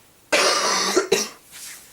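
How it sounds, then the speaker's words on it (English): One person coughs in a harsh burst followed by a second shorter cough and a faint trailing breath, close and alone. "Sorry, coughing crazy like today."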